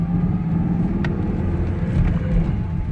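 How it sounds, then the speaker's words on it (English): A manual transmission car pulls away as the clutch releases, its engine giving a steady, close, low rumble that stays even for the whole stretch, with no voices over it. "clutch in, gear in, and then just acceleration and clutch out."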